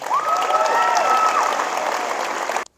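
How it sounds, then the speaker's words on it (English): A crowd at the Bellbrook High School college signing ceremony breaks into steady, dense applause with a bright whistle over the clapping, holding for about two and a half seconds before cutting off abruptly. "So a big round of applause for Haley Steffi."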